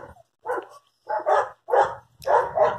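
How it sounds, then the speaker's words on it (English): An old, grumpy Yorkie barks in four loud, close bursts, the first short and the rest doubled, with brief pauses between. "the crabby Yorkie dog is Mackinone. He's a butt. He's an old man, so he's kind of grumpy with them"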